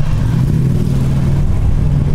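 A car engine rumbles steadily and loudly close by, a continuous low drone with no voices over it.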